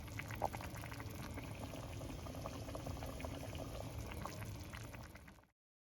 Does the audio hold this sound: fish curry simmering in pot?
yes